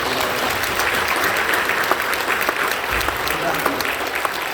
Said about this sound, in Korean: 환영하는 박수 한번 해주시죠.